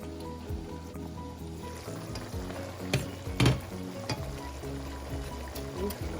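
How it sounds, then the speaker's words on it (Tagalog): White corn stir-fried in a pan with garlic, onions, butter and tomato sauce, giving a steady close sizzle broken by a few scraping stirs and clatters. "stir fry with the garlic and onions and butter"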